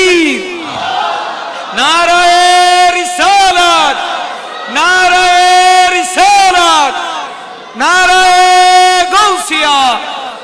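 A crowd at an Eid-e-Milad-un-Nabi religious procession chants the Nara-e-Takbir slogan in unison, three loud roaring call-and-response bursts, each a few seconds long, separated by short pauses.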